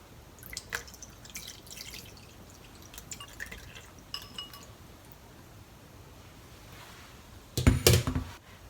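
Shiitake soaking water strained into a bowl of kelp water for kasu-jiru: quiet scattered drips and light clinks early on, then a short louder burst of pouring liquid and glass clinks near the end.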